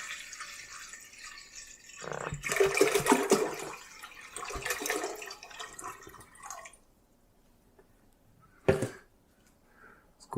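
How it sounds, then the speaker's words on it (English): Liquid for making Zinfandel wine is poured from a pan into a larger pot, a rushing, splashing pour that swells, fades, then returns briefly, with a few drips in a quiet kitchen. "the remainder, we want to go ahead and pour that into our larger pot."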